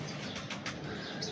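Bred pigeons flap their wings while being handled by a breeder, producing a short burst of soft, close feathery flutters with no voices.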